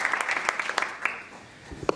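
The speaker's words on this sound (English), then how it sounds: "a wonderful round of applause for all of the International Jury Award winners" Applause from an audience at an award ceremony, a burst of clapping that thins out toward the end, with a few scattered claps lingering.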